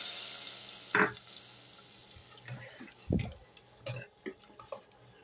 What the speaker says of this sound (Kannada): ಇವಾಗ ಒಗ್ಗರಣೆ ರೆಡಿಯಾಗಿ ಹಾಕ್ತಾ ಇದ್ದೀನಿ.